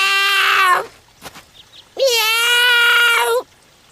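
A kitten stuck up a tree mews in two long, loud, plaintive cries close by, separated by a short quiet gap.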